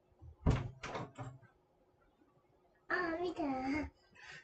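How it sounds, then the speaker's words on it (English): A house door is opened to let a dog named Moo in: a soft thunk and latch rattle come after someone speaks, followed by an adult voice, all quiet and close. "You gonna open the door for Moo?"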